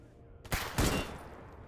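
Two sharp gunshots ring out in quick succession in the shooter game S.T.A.L.K.E.R. GAMMA, loud against a quiet background with a short decaying tail.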